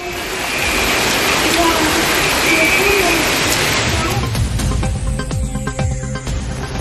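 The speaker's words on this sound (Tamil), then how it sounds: "திருவாரூர் மாவட்டத்தில் 2ஆம் நாளாக பல்வேறு பகுதிகளில் கனமழை பெய்து வருகிறது." Heavy rain falls steadily across Tiruvarur district, a dense continuous hiss that stays loud throughout, turning rougher with low rumbling and scattered clatter toward the end.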